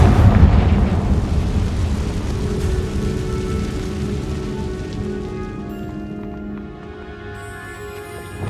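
A Confringo fire spell blast in Hogwarts Legacy bursts loud and deep at the start, then rumbles and crackles away over several seconds, settling into a low ambient hum.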